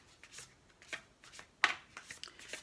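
Tarot cards being shuffled by hand in a quiet room: a string of soft riffling bursts with short pauses between them, one sharper snap partway through.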